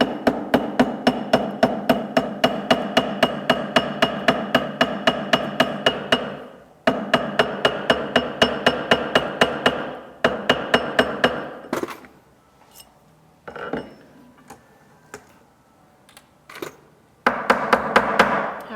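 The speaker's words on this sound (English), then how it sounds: "I like to lean my body up against it a little bit in order to stabilize and hammer. Hammer and turn at the same time." A metal ring band is hammered on a bench, rapid steady metallic strikes in long runs, pausing briefly, then a few scattered taps before another quick burst, loud and close.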